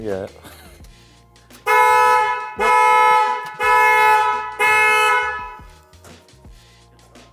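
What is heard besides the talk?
sportscar alarm test, horn sounding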